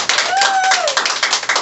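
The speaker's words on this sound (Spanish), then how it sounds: "un fuerte aplauso para la Sensual Radio.com" Small crowd at a radio station launch party clapping in a brisk, continuous patter, close and loud, while a voice speaks over the top.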